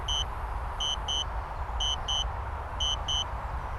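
A DJI Spark drone controller emits repeated high electronic beeps in paired bursts during a return-home flight, sounding over a steady outdoor background rumble.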